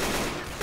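A sniper rifle in the video game Left 4 Dead 2 firing: a dense, loud burst of gunfire noise that fills the short moment, with a second sharp report near the end.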